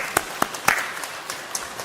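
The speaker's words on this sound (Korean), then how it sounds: "하나님께 영광의 박수입니다" A church congregation claps during a Sunday worship service, giving a short burst of scattered, irregular claps that fade into softer background clapping.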